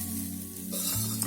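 Fried methi shingole being gently stirred in a pan with minimal oil, a soft steady sizzle under a low hum, brief and even with a faint scrape near the end.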